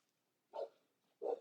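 Two short, low barks from a dog indoors, spaced about half a second apart, fairly faint and alone in an otherwise quiet room during resin glass art work.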